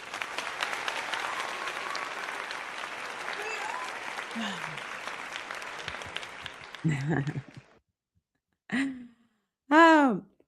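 Rapid hand clapping rattles on for several seconds, then stops; a few breathy vocal sounds, like a sigh and a groan, follow in the quiet.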